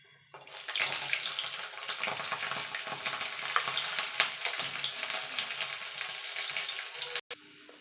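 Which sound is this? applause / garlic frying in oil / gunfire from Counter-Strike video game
garlic frying in oil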